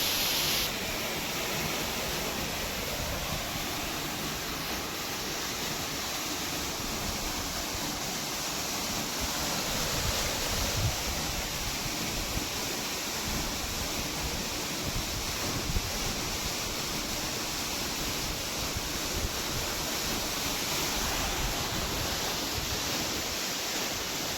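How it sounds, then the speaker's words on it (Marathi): Water gushes steadily from a Shakti 5 HP solar pump, a constant dense rushing roar that stays even and fairly loud throughout, with no voices. "व्यक्तींनी आता मोटर चालू करून दिली आहे बघू शकतो. चला याचा पाणी प्रेशर वगैरे बघूया"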